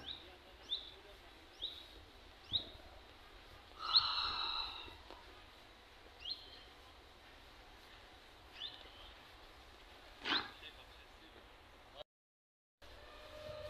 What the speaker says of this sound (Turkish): kuş sesleri bir harika. İnsana huzur veriyor.